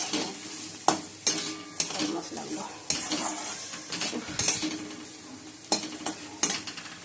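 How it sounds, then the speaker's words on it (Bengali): Potatoes frying in oil in a pan, a sizzling bed broken by repeated sharp clanks and scrapes of a spatula against the metal at an uneven rhythm, close and fairly loud. "আলুটা ভেজে নিই দিয়ে তারপর সাইড করে তেল দিয়ে মশলাগুলো দিয়ে"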